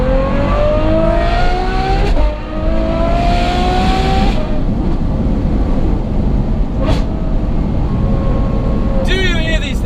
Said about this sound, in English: The exhaust tone on this thing